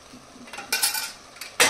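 Metal clanks as a pressure cooker lid is fitted and pressed shut over carrot and potato curry, a few sharp close knocks ending in a louder final clack.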